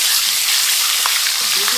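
Garlic and ginger frying in a pan for chicken karahi, a loud, continuous close-up sizzle with faint crackles throughout and no voices.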